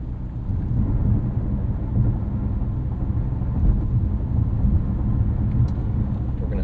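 Rain outside a 2025 Mercedes-AMG GLC 63 S E Performance, heard from inside the cabin as a steady low rumbling wash mixed with road noise; constant, with no talk.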